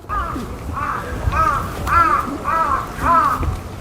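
A crow caws repeatedly in a steady rhythm in a forest, about six harsh calls, close and loud over a faint outdoor background.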